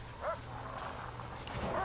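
Dog barking in the prison-management game Prison Architect: two short yipping barks, one early and one at the end, over a steady low in-game hum.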